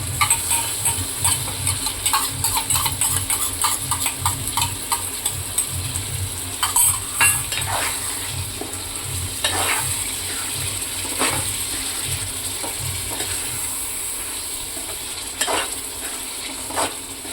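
Gongura paste stirred into simmering mutton curry in a pot gives repeated scraping and clacking stirring strokes over a wet, bubbling sizzle, loud and close.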